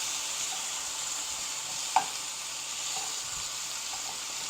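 Oxtail browning in a hot pot, with a soft continuous sizzle and one sharp clack near the middle as the pieces are turned, followed by faint scraping.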